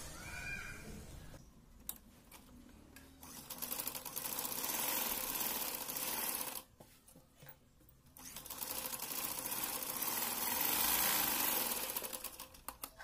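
A sewing machine stitching the neckline of a long gown made from an old saree, running in long steady buzzing bursts with a short pause between them, close and clear, with no talking.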